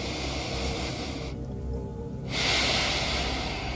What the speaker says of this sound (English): You start your breathing.